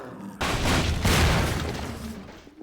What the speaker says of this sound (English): This explosion permanently seals the cafe door